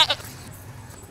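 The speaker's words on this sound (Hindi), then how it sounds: "जैसी की आवाज इस बकरे के मुंह से क्यों आ रही है?" A goat gives a short, close, wavering bleat at the very start, which fades into low background noise.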